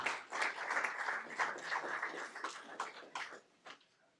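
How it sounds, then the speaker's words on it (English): Applause from an audience at a school district board meeting honoring a group of students and educators, a dense steady patter of many hands that fades out toward the end. "How about one more round of applause for this fantastic group of students and educators?"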